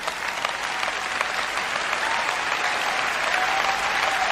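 Steady, full audience applause at a church sermon, a dense crowd clapping evenly throughout without pause.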